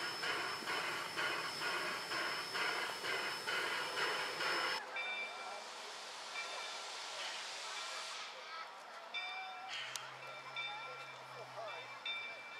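Mt Rainier Scenic Railroad steam locomotive number 70 stands at a crowded station platform, giving a steady faint hiss and low rumble, with a soft change in tone partway through.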